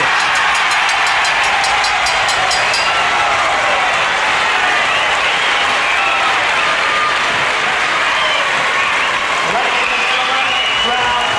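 A wrestling crowd at a World of Sport bout cheers and applauds loudly and continuously, a dense roar that holds steady throughout and leaves no pause.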